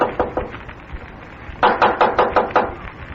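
Knuckles rap on a door in an old radio detective drama: two light knocks, a brief pause, then a louder run of about six firm, evenly spaced raps, close and clear with no voices.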